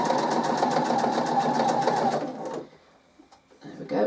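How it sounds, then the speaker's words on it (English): A sewing machine stitches a reusable washing-up sponge in a rapid, steady whirr for about two and a half seconds, then stops, leaving a near-quiet pause with faint handling before a brief noise returns. "So as I'm sewing this, I'm going to come right off the corner."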